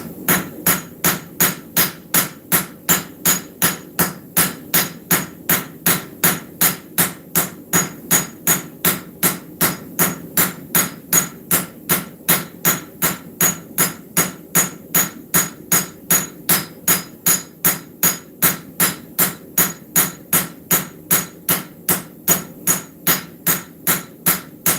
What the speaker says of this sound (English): And getting used to how to swing your hammer to help it out.